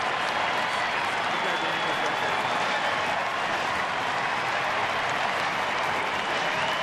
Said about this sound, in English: Fans applauding.